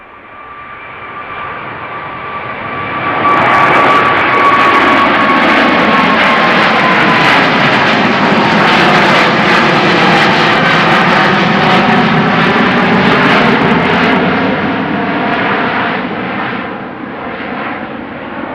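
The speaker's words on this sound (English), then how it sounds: "Let's just listen to those GE90s." A KLM Boeing 777 with GE90 jet engines, 13 years old, roars past at Amsterdam Schiphol, building to a loud sustained rumble with a fading high whine, then easing away.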